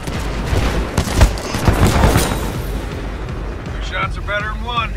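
Kraber sniper rifle shots in Titanfall 2 gameplay, a couple of heavy booming blasts in quick succession with rumbling tails, followed by fainter game sounds and a voice near the end.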